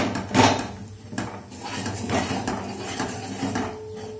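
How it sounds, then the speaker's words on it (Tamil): A spoon scrapes and knocks against a pot while urad dal porridge batter is stirred without pause, giving close, uneven clinks and scraping sounds, one sharper knock near the start and quieter stirring after it. "கைவிடாமல் அப்படியே கிண்டிகிட்டே இருக்கணும்"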